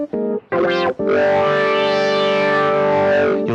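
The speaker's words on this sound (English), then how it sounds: "if you strike a note and move the mod wheel, you'll hear the filter open and close" A Kurzweil K2500 synthesizer note with a resonant filter swept open and closed by the mod wheel: two short stabs, then one long sustained tone whose bright buzzy overtones swell and fade in a wah-like sweep.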